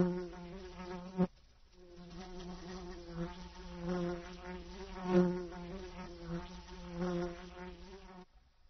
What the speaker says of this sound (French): Une guêpe à proximité sent une odeur sucrée et arrive en volant.